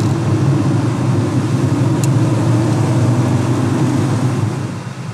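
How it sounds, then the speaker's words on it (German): The five-cylinder engine of a VW Passat 32B Syncro runs close by, a loud, steady low rumble that holds evenly throughout without clear revving. "Da oben raus kommt dann der 5-Zylinder."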